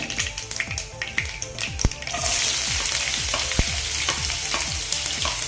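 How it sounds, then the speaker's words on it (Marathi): Chopped onion and tomato frying in a pan: sharp oil pops and spatula taps at first, then a loud, steady sizzle swells up and keeps going, crackling close by with no talk. "एक मीडियम साईजचा कांदा आणि एक मीडियम साईजचा टॉमॅटो मी चिरून घेतलेला आहे बारीक तो घालून घेऊया"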